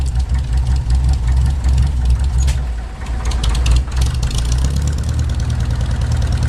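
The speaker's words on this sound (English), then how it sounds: "It runs runs very smoothly on diesel once it's warmed up." A warmed-up International Harvester WD-9 tractor's diesel engine idles close by with a steady low throbbing rumble, running evenly throughout with a brief dip in the middle.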